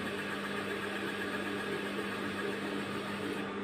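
Steady, even motor drone from a high-speed straight-stitch sewing machine held at low speed by a lightly pressed foot pedal, close by and uninterrupted, with no talking.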